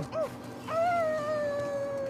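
A person imitates a wolf howl with the voice: a short rising yelp, then a long sustained wavering howl that slowly falls in pitch, close and fairly loud.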